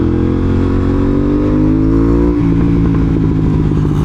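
A car engine revs loud and close, pitch climbing steadily, then a hard shifter gear change cuts in partway and the engine drops and settles into a rough, throbbing drone.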